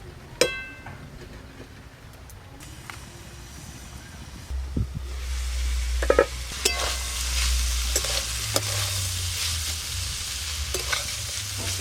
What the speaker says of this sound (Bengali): চিচিঙেগুলো খুব ভালো করে ভেজে নেবে